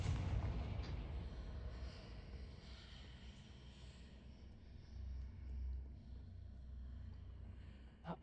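Confringo spell blast in the video game Hogwarts Legacy, a single booming explosion that starts loud and decays into a long low rumble, heard alone without talk, with a short crack near the end.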